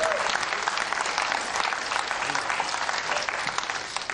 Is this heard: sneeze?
no